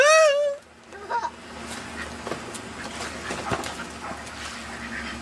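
A dog whimpers in a rising, whining cry at the start, then gives a few short yips and playful sounds against a busy, noisy background.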